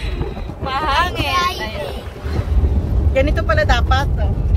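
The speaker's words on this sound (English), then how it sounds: "It's very windy." Strong wind buffets the microphone with a constant low rumble while people speak over it, outdoors in Tuguegarao City, Philippines.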